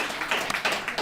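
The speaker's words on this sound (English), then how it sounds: "Let's give ourselves a round of applause." A recovery meeting group of alcoholics and addicts breaks into a brief, steady round of clapping that fills the room with dense, overlapping hand claps.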